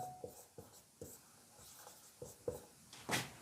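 A pen writes on paper in short, scratchy strokes, roughly a dozen quick taps and scribbles in an uneven rhythm, close and quiet, with no speech.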